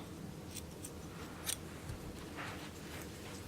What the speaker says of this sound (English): You can just take some scissors, cut that right off.